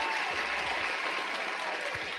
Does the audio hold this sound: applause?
yes